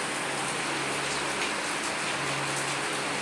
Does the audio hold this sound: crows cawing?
no